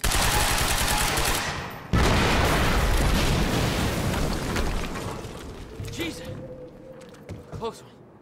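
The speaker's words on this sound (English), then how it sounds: "HQ, we just heard an explosion near the harvesting perimeter." A big explosion goes off in Quantum Break with a loud rumbling blast. Debris and crackling bursts follow, and the roar slowly fades as a voice speaks over the tail.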